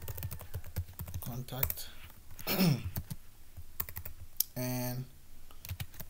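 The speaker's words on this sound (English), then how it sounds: "So let's go ahead and then type this in." Keys clatter on a computer keyboard in quick irregular bursts while someone talks over the typing, with a short tonal electronic sound breaking in near the end.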